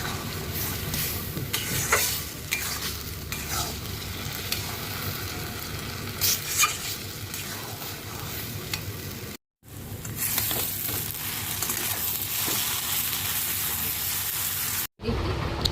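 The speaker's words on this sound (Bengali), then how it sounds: "এখন হচ্ছে লাল লাল করে ভাজা হলে সুজিটা বেশ ভালো হবে" Semolina for halwa fries in a pan with a steady, close sizzling hiss and occasional scraping stirs, broken by two short silent cuts.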